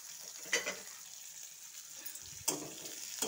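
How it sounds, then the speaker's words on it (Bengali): Chopped onion fries in oil after whole cumin goes in, a soft, quiet sizzle with a couple of sharper scraping stirs, close by and without talk. "পেঁয়াজটা একটু কিছুক্ষণ নেড়ে নেব,"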